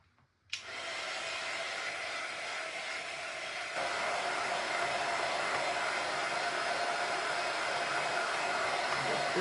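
Hair dryer switched on abruptly to dry a freshly painted mailbox, blowing with a loud, steady roar that grows slightly stronger partway through.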